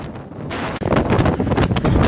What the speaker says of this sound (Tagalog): ramdam na ang malakas na hangin at pagulan dito sa lungsod